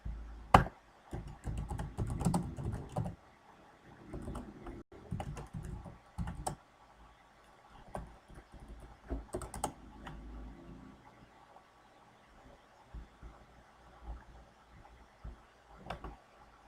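Keystrokes on a computer keyboard as a command is typed, in quick irregular bursts of soft clicks at close range with short pauses between them, no talking.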